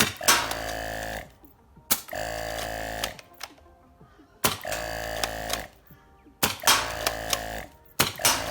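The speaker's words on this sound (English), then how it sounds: "so let's take it outside and show you it firing" A Nerf HPA Prophecy blaster fires cut-down FVJ darts outdoors in four loud, sharp bursts of rapid shots, each burst about a second long and separated by short pauses.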